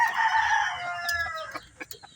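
A pure labuyo rooster crows once, a loud near call that trails off into a few soft clucks.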